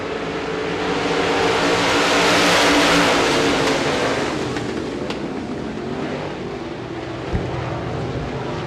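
Limited modified race cars roar off together at the green flag in a heat race at Devils Bowl Speedway, a dense, loud engine wash that swells and peaks, then holds steady with the field under way.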